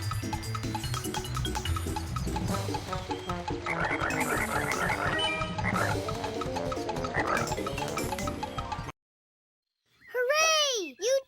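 Cartoon frogs in a Winnie the Pooh story: a bright music bed plays, cuts out, then a few loud, warbling croaks follow close up at the end.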